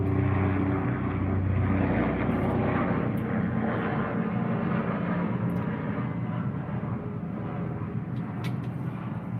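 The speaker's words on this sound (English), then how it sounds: "Let me let this helicopter pass by." A helicopter passing overhead, a loud steady rotor and engine roar that fills the whole stretch and eases only slightly toward the end.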